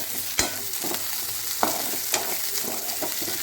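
Curry leaves and spices sautéing in a pan for a village-style mutton gravy, a steady close sizzle broken by repeated sharp scrapes and clinks of a stirring spoon.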